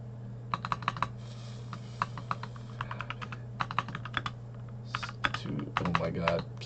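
Fingers tap a computer keyboard in quick uneven bursts of clicks with short pauses, a steady low hum beneath and a voice murmuring near the end.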